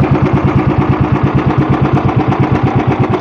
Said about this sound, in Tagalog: So dito mo maririnig ang iba't ibang tunog ng makina.